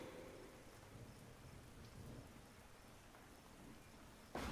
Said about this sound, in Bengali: বৃষ্টির তোড় বাড়ছে।